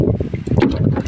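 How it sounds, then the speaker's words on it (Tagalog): Strong wind buffets a small fishing boat on the water, making a loud, close, rumbling roar of gusts against the microphone, steady throughout a brief moment. "Medyo malakas lang po hangin."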